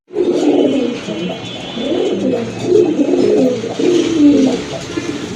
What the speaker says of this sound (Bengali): এই যে দেখেন এক জোড়া চকো গ্রিজেল কবুতর, খুবই সুন্দর কবুতর